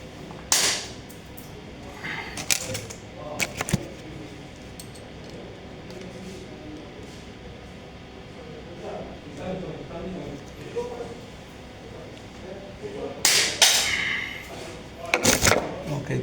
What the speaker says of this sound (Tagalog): dahil mahaba yung screw guys, so putulan na lang natin.